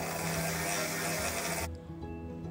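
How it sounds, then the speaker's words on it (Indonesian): An electric mixer beats butter for lidah kucing cookie batter, giving a loud, dense whirring for about 1.7 seconds before cutting off and leaving a quieter room. "Sekarang kita mixer blend butternya"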